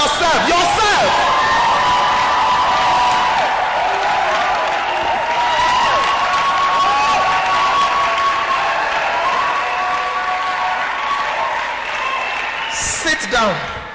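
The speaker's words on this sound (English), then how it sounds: "Stand up and clap for yourself." Church audience of women standing and clapping for themselves at an empowerment sermon, a loud continuous roar of clapping mixed with cheers and whoops, with voices shouting over it.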